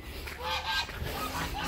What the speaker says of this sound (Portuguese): tem uns gansos aqui